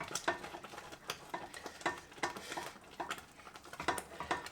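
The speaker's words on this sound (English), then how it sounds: "I think I might need to go back to the whisk." Hand whisking of a vanilla mixture in a pan, a steady run of quick, bright scraping strokes against the metal, close and clear with no talk.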